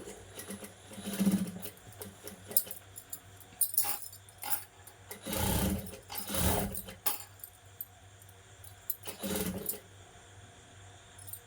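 Sewing machine stitching a puff sleeve, short whirring bursts of needle runs separated by pauses, close and fairly quiet with faint handling noises between.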